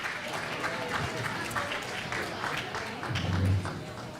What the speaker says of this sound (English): Let's give our scholars another round of applause as they return to their seats.